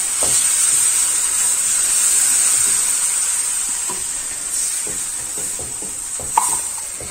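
Milk sauce mixture being stirred in a pan until smooth, giving a steady wet scraping and swishing over a continuous sizzling hiss, with a sharper clink near the end.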